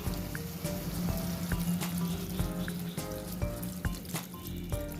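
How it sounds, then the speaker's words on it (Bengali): Mushrooms and spice masala spit and crackle in the pan as water goes in, a low bubbling sizzle with scattered sharp pops and drips, fairly quiet and near. "মাশরুম আর মশলা ভালোভাবে কষানো হয়ে গেছে এবার জল দিয়ে দিন"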